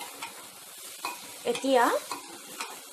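A spoon scrapes and stirs khisiri in a pan in several short, uneven strokes at close range, with a brief spoken word partway through.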